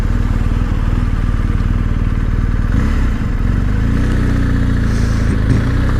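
A 2021 BMW 1250GS motorcycle on the move, its engine a loud, steady low throb close by that shifts pitch slightly partway through as the ride continues.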